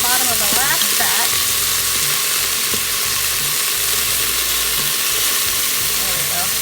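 Beef browning in a pressure cooker pot, a dense continuous sizzle with a few stirring clatters near the start, loud and close without talk.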